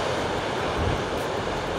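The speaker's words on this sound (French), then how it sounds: "Les vagues, comme elles se fracassent contre les rochers" Steady broadband roar of ocean surf breaking against coastal rocks along a seaside hiking trail, a continuous wash of crashing water with a slight low swell midway and no voices.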